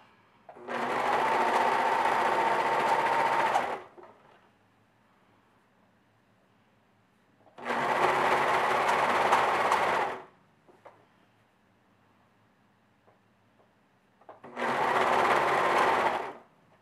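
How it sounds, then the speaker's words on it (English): A serger stitches ribbing binding onto a knit shirt neckline in three steady, loud whirring runs of about three seconds each, separated by quiet pauses with faint handling. "So I'm going to use my serger for this part."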